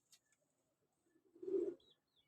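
A single pigeon gives one soft, low coo at close range, faint and brief, with a few tiny chirps and near-silence around it.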